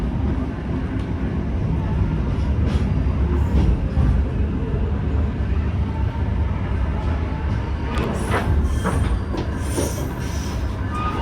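The Mutiara Selatan passenger train rolls into Kertosono station, a steady rumble of railcars and wheels with squealing brakes and clacking toward the end, heard from aboard with faint voices.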